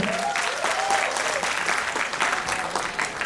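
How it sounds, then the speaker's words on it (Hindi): Parents and guests at a school annual function clap together in a full, steady round of applause, heard close and continuous before a puppet performance. "सो एक बार जोरदार तालियां हो जाए।"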